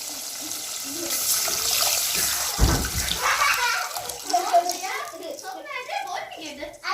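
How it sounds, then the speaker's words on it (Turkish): Water is poured into a pot of roasted tarhana soup ingredients: a continuous splashing stream that sizzles briefly as it hits the hot pan, then settles into bubbling, with someone speaking throughout. "Şimdi üzerine su ilave ediyorum."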